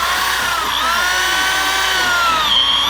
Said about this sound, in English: that drill seems to be working a little better